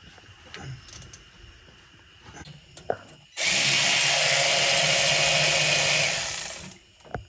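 A power tool runs loud and steady for about three seconds, removing a 10 mm bolt that holds the parking brake cables on the rear end of a 2015-2020 Ford F150, after some quieter clinking of tools and parts.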